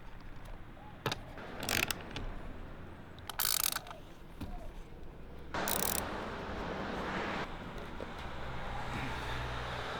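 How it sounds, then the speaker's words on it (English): A socket wrench tightens a Drifta awning bracket onto a roof rack outdoors. It gives several short, bright ratcheting bursts separated by pauses, close and crisp over faint traffic-like background noise. "we'll switch our socket over and we'll tighten the awning to the roof rack"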